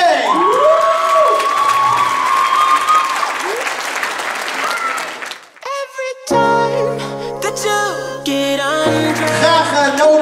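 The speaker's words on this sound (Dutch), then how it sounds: "Geef ze een groot applaus, CNK!" A contest audience at a Friesland youth arts competition claps and cheers loudly for about five seconds, with whoops over the applause, then the noise dies away and music begins.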